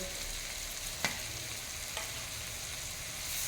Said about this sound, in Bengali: সবগুলো দিয়ে একটু নাড়িয়ে ভালো করে মিশিয়ে দেবো